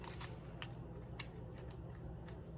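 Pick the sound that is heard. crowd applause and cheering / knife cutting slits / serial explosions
knife cutting slits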